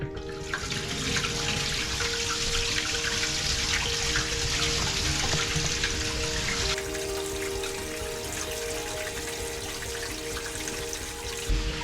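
Water rushes steadily through a newly connected hose under a house, a constant hissing spray that shifts slightly in tone partway through and keeps going without a break.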